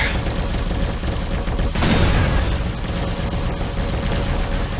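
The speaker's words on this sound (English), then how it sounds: "And those cannons are just melting away at these ships." Spaceship cannons fire in the space game Avorion, a dense, continuous barrage of rapid blasts and crackling impacts, loud and unbroken, with a sharper burst partway through.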